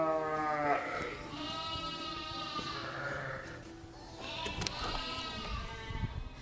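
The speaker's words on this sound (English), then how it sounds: "there's our sheep" Sheep bleat repeatedly on a sheep farm, several overlapping calls from more than one animal, fairly close and loud over a steady outdoor background, with no talking.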